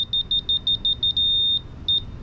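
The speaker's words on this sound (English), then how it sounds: "right now it's on the bottom and it does fast beeps. When it gets on it, it does a solid beep." A green laser sensor used on a roof-raising job gives rapid, evenly spaced high-pitched beeps, then a sustained solid tone, then a couple more beeps, loud and clear over faint background rumble.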